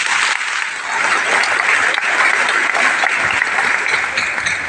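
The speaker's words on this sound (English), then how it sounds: "Please give yourselves a round of applause." A crowd at a school graduation ceremony applauds, producing a dense, even roar of many hands clapping that holds steady close to the listener for several seconds.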